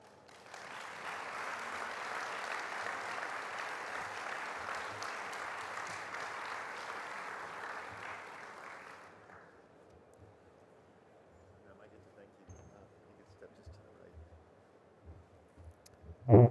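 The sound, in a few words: audience applause after keynote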